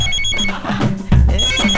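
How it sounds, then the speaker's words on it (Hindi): A telephone rings loudly for a short stretch in a Hindi film scene, its electronic tone repeating over a low rumble. "सीएम साहब का फोन, सच में देखिए ना"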